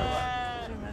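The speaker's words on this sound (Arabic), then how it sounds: "هذه فحول خرفان نعيم" A sheep bleats loudly and close at a sheep market in Buraydah, Saudi Arabia, a single drawn-out quavering cry that fades over about a second.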